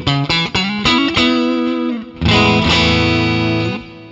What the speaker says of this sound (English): I've got a bit of a twin reverb thing going on there with some reverb and delay